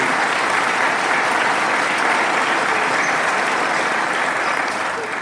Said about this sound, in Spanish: Denle un aplauso a Santiago